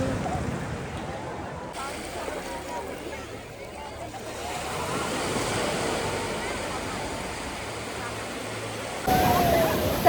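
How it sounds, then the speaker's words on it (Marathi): Ocean waves break and wash onto the shore at Radhanagar Beach, a continuous rushing surf with some wind noise, swelling louder toward the end. "लाट आली थांबा. लाट तुमच्या तिथं बनणार आहे लाट."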